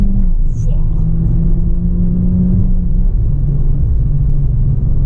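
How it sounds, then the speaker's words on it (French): A DS3 Performance car engine drones loudly from inside the cabin, its low rumble steadily rising as the vehicle accelerates, with a brief voice near the start. "Boum, on remet gaz."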